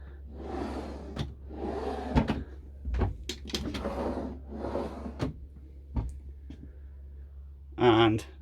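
Drawers in a Carthago C-Tourer i144LE motorhome interior sliding open and shut, a series of close, sharp thuds and clicks spaced across the clip, with a person talking between them.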